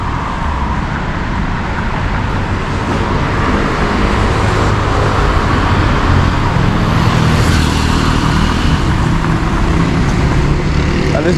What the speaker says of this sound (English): At least the traffic is not that bad on a Sunday.